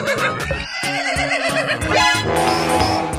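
A horse neighs and whinnies loudly over a busy, bright background of cheerful children's music with toy-like tones; the whinny rises and falls across the clip with a faint clip-clop hint.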